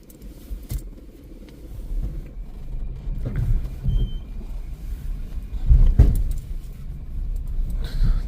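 Car reversing slowly along a track through dense forest, a low engine rumble with bumps and crunches from the uneven ground, building in loudness toward the middle, with no talking.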